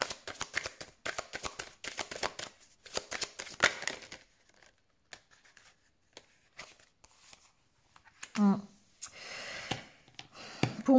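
Tarot cards handled and laid out during a reading: soft rapid shuffling and flicking at first, then a quiet pause, followed by a few light card slaps and breaths near the end, with no clear talk.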